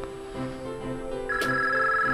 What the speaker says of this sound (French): On dirait que maintenant, c'est le téléphone.